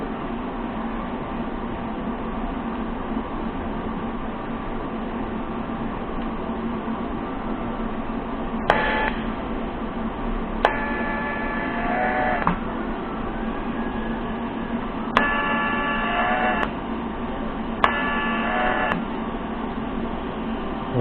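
TIG welding tack welds on metal parts at 120 amps: short bursts of buzzing arc with a bright high whine, several quick tacks in the second half over a constant low hum.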